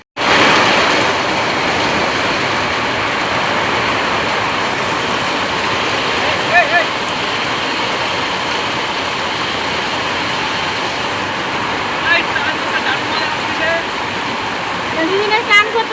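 Heavy rain pouring down on a rainy day, a steady, loud, dense hiss like rushing water that fills the scene from start to finish, with a few faint clinks and voices now and then.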